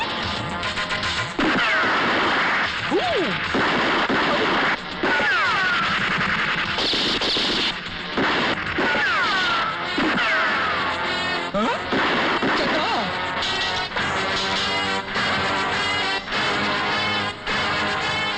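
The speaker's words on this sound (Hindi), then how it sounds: "गोलियां चल रही है" A chaotic action scene from a Hindi film: bursts of gunfire mixed with crashes, impacts and shouting voices, loud and relentless throughout with barely a pause.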